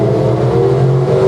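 A drag racing car engine at an OSCA semifinal event drones loud and close as the driver works the throttle, a sustained rumbling tone with slight wavering and no talk over it.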